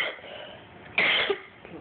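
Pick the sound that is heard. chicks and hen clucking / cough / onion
cough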